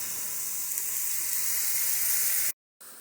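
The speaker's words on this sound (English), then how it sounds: "So we put those onions in, and we're gonna sweat those out a little bit." Onions sweat in a pan for mushroom soup with a steady, even sizzle and hiss that cuts out abruptly for a moment near the end, then resumes.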